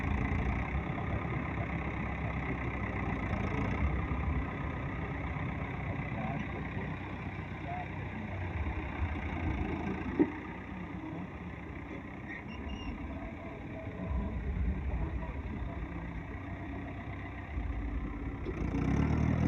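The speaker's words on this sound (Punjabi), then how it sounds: "ਦੋਨਾਂ ਟਰੈਕਟਰ ਚਲਾਉਣੇ ਪੈਂਦੇ ਹੁਣ ਇੱਕ ਟਰੈਕਟਰ ਨਹੀਂ ਕੰਮ ਕਰ ਦੂਗਾ" Engine of an 855 tractor running steadily at a near, even drone throughout, working in a field with a loaded soil trolley, with no talk over it.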